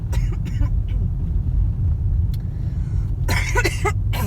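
Someone coughs inside a moving SUV-type vehicle, with a few quick harsh bursts near the end standing out over the constant low engine and road rumble.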